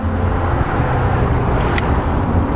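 A 1987 Nissan 300ZX with a V6 engine drives along, heard from inside as a steady, loud engine and road rumble without any talk.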